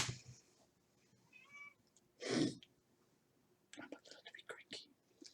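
A cat in a room gives a brief meow, followed moments later by a louder sharp vocal burst; quiet whispery speech runs in the background and more talking follows near the end.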